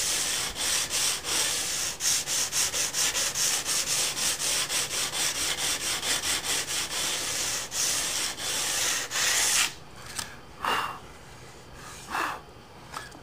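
File and sandpaper dress the side of a guitar fingerboard and the fret ends. Steady back-and-forth rasping strokes run close and loud at first, then give way to a few slower, sparser rubs with gaps between them.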